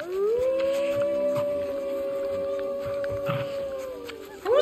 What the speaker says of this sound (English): Who's constantly howling?